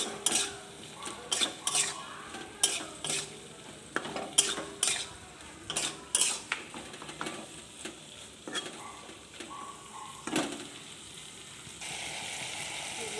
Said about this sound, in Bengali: আমরা খুলে নিয়েছি, ঢাকনাটা খুলে দিয়েছি, দিয়ে কষতে থাকছি। 10 মিনিট মতো কষে নেব।